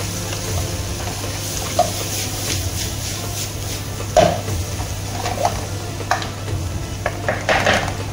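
Black pepper and spices stirred into hot oil for Arabic chicken mandi, a steady close sizzle with a low hum beneath and scattered scraping clinks of a spoon against the pot.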